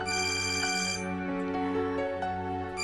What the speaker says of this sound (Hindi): आयान का फोन आ रहा है